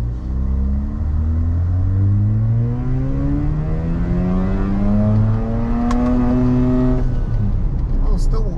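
A Mazda RX-8 engine revs and accelerates on a dyno, its loud rising whine climbing steadily through the gears before cutting off near the end.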